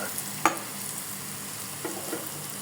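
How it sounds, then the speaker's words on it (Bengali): Cheese fries in a pan while being stirred. A soft, steady sizzle carries a few faint scraping stir sounds, heard quietly and with no voices. "এটা ভাজা হোক"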